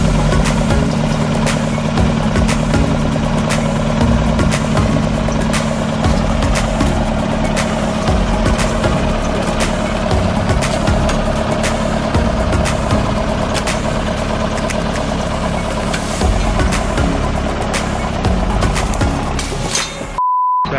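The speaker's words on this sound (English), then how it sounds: "Tim is going to hook this section of fence up to the tractor" A tractor engine runs steadily while pulling out a section of fence, a constant loud rumble with scattered clanks and ticks throughout, cutting off abruptly near the end.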